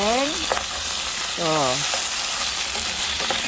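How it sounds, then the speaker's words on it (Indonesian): Meat fries in a pan with a continuous close sizzle, seasoned with salt, ground pepper and coriander and cooked outdoors in a garden. Brief speech is heard over the frying. "Nah, ini daging sudah aku goreng."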